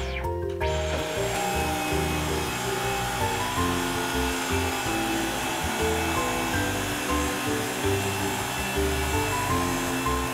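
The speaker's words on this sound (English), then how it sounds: "So today we need to give them a full vacuum. So I'm going to be using my trusty Dyson today." A Dyson vacuum cleaner runs steadily on carpet after a Rug Doctor detergent clean, a loud continuous motor whine with shifting low rumble and scraping as it moves, starting abruptly and continuing without talk.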